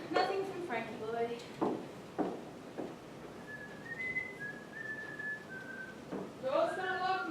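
A woman whistles a lilting tune while walking in high heels, with sharp heel clicks tapping between the melodic phrases. The whistling returns near the end.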